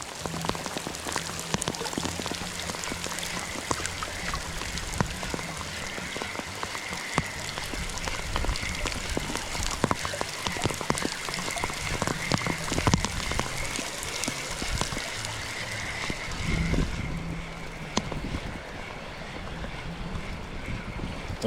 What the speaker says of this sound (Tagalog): Ulan na, lakas ng ulan, oh.